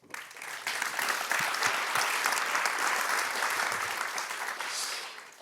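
Audience applause at the Amsterdam Science & Innovation Awards ceremony, swelling quickly into dense, full clapping from a large crowd that holds steady and begins to taper near the end.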